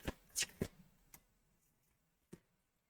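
A few crisp papery riffles and slaps of tarot cards being shuffled, close by and quiet, with short bursts separated by pauses.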